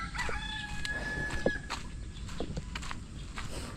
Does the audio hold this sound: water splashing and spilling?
no